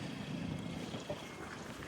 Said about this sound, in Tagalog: Yan, medyo mahangin siya ngayon.